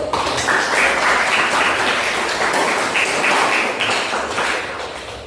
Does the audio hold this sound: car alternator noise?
no